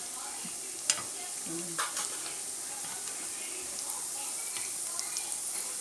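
Potato ring vadai frying in hot oil, a steady soft sizzle with a few light clinks as the pieces are turned over, close and continuous.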